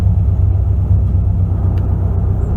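A 2001 Ford E350 Super Duty van with a modified 5.4-liter single-overhead-cam, two-valve V8 idles with a steady, deep low rumble, close and loud throughout with no speech.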